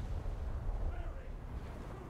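Naval gunfire in War Thunder from the USS Newport News sounds as a low, heavy rumble of distant booms, faint and continuous.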